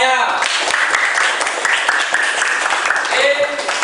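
A fifth-grade maths class claps together in a classroom, with a dense burst of close hand claps filling the few seconds while voices mix in.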